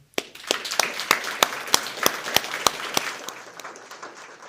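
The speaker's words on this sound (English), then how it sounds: "let's put our hands together, a massive round of applause for our first panel" Applause for the first panel at an Arctic jobs side event: sparse, distinct hand claps, a dozen or so spaced sharp hits over a thin patter, fading toward the end.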